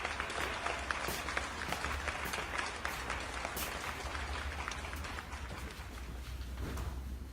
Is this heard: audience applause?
yes